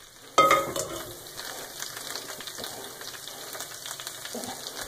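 Pasta water hits a hot pan of garlic and anchovy oil with a sudden loud burst of sizzle, then settles into steady, close frying crackle with light stirring scrapes, no talk.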